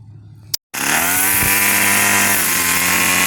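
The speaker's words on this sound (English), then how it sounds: "Here's the wife mowing down on her flowers, getting them cleaned up." A lawn mower is used to cut down flowers in a home vegetable garden. After a short click and pause, the engine roars loud and close with a steady droning whine.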